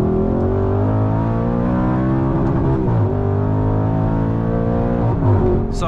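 A straight-piped Audi R8 V10 in sport mode with traction control off accelerates hard, its loud engine note climbing through repeated rising revs toward about 8,100 RPM, heard close from inside the car with no voices.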